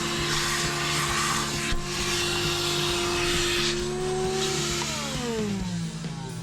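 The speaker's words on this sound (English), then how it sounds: "I'm going to go ahead and do a quick shop vac, vacuum up all these little chunks of foam" A shop vacuum drones loudly and continuously as it sucks up small chunks of cut foam, its motor whine steady then dipping and shifting in pitch toward the end.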